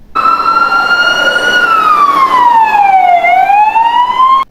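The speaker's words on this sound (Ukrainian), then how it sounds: "Так, це пожежна машина." A loud, close fire engine siren sounds continuously on its own, its pitch gliding slowly up and down in a steady wail.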